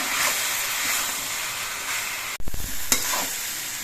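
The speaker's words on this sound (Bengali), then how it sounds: "এবার সব কিছু দিয়ে নেড়ে চেড়ে মিশিয়ে নিয়ে কিছুক্ষণ কষিয়ে নিতে হবে" Spices and a ginger-radhuni paste are stirred and fried in a pan for shukto, a loud continuous sizzle with spatula scrapes, briefly interrupted by a sharp knock and a short dip before the frying hiss resumes.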